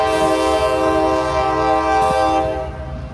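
A CSX train rumbles past close by with a sustained horn blast sounding over the steady roar of the cars.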